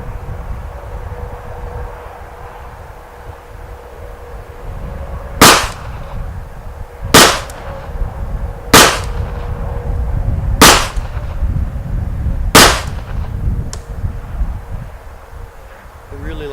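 Five sharp, loud Kel Tec PMR30 pistol shots ring out at irregular intervals of about one and a half to two seconds, each with a brief echoing tail, over steady low outdoor background rumble.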